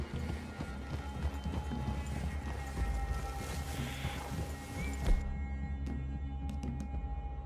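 Horse hooves clopping at a steady trot in Red Dead Redemption 2, a continuous rhythmic beat mixed with low ambient rumble and faint rain-like noise, fairly distant with no talking.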